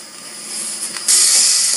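Leeks dropped into olive oil in a saucepan, a steady steamy hiss that suddenly grows louder and brighter partway through, close and continuous.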